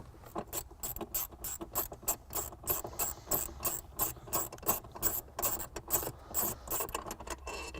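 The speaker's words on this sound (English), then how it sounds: "We're just going to use an 8mm socket to go ahead and remove that" Ratchet wrench fitted with an 8mm socket backing out screws on a Mini Cooper Countryman during a trailer wiring harness install, rapid rhythmic clicking of the pawl in close, steady bursts with no talking.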